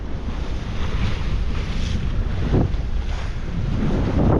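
Steady wind buffeting the microphone over the rush of waves and water against the hull of a sailboat at 6.5 knots, heading across open sea toward the Isthmus and Two Harbors; continuous and loud, with no voices.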